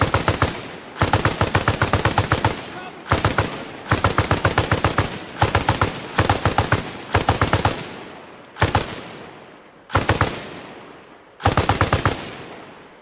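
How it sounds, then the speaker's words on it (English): Heavy machine gun suppressive fire in Arma Reforger, loud and close, with repeated long bursts of rapid shots separated by short pauses and a few single echoing shots near the end. "Have your boy lay down suppressive fire."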